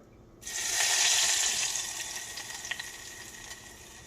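Hot liquid is poured over a scallion mixture during meal prep. It starts abruptly as a steady, close, hissing splash, then thins and fades toward the end, with no talking.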